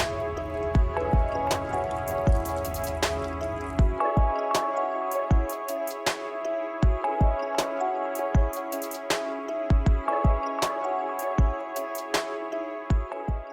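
Dirty water drains from the back plug of a Mytee Lite III 8070 dump tank, falling in irregular, close drips and splats that continue steadily, with a steady hum from the machine behind them.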